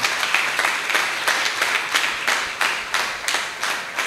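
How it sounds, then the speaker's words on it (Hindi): A church congregation claps together during a sermon in a steady rhythmic beat, roughly two to three claps per second, each one a crisp burst above a soft background of hands. "कि आप लोग तालियां बजा सकते हैं"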